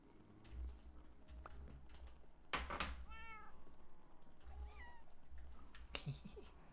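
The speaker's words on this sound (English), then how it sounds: "Little family of kitten cats." A small family of cats and kittens meows in the video game Minecraft, several short rising mewing calls at moderate distance in a quiet outdoor scene, with a few faint footstep-like taps between them.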